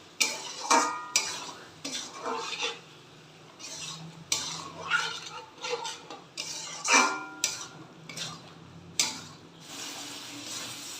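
Spice paste fried and stirred in a pan for a jackfruit and chicken curry, heard as repeated close scraping and clinking of a utensil against the metal pan in an irregular rhythm, with a soft sizzle underneath.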